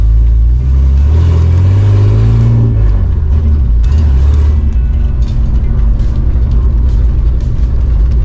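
A Toyota Land Cruiser with a high-performance 2F engine and dual exhaust drives along, its loud, steady low rumble swelling as it revs and accelerates, with no voices over the engine.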